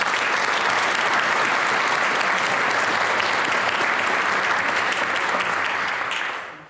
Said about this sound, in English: Please join me in applauding Walter Stevok for being nominated in the leadership category